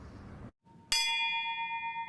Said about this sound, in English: A bell for each name,